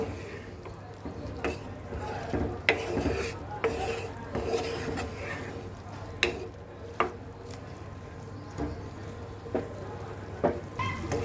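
Soybean chunks cooked like meat with garam masala sizzle and fry in a pan, with repeated sharp scrapes and stirring strokes over a steady close hiss while someone talks.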